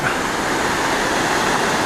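Huai Mae Khamin waterfall, a seven-tier fall, roars after a storm as a steady, loud, broadband rush of cascading water, close by and unbroken, with no voices.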